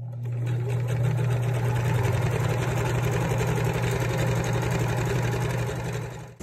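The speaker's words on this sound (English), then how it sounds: "you're gonna sew using a 1/4-inch allowance" A sewing machine runs steadily and loudly while stitching a fabric face mask with a quarter-inch seam allowance, a continuous mechanical whir with no speech.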